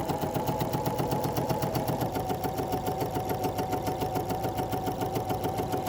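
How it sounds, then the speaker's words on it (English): A sewing machine stitches a seam on a Courthouse Steps quilt block from a 1930s sampler, a close, steady, fast mechanical whirr with an even rhythmic chatter throughout and no talking. "So once again, just a couple stitches, and then we'll make sure things are lined up nicely."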